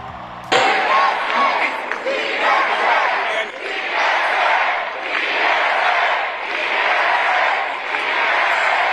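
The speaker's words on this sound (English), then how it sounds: "The crowd chanting slogans like "Freeze the Rent," as well as DSA" A loud crowd at a political rally in Queens chants slogans in rising and falling waves, with cheering mixed in after a sudden start.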